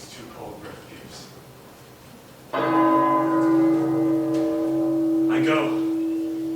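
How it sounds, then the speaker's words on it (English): A single deep bell tolls in a stage production of Macbeth, striking once and ringing on in a long, sustained hum that hangs loud and steady, with a voice speaking briefly before it. "The bell invites me."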